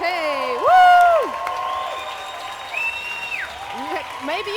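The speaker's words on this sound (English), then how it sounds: "Maybe you can hear the crowd, I don't know, but it's crazy in here." Home crowd at a roller derby bout in a packed venue, cheers and whoops rising in bursts beneath close, excited commentators talking throughout.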